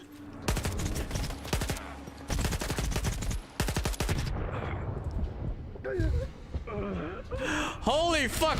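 Gunfire in STALKER 2, several loud bursts of rapid automatic shots in the first half, then a voice speaking amid fainter shots and distant rumble.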